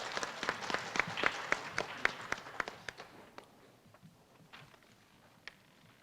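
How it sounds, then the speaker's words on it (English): Audience applause at a school district literacy competition for seventh-grade Ready Writing winners: a burst of steady clapping from a crowd indoors, loud at first and then thinning to scattered claps after about three seconds. "Please join me in a round of applause once again for our 7th grade Ready Writing participants"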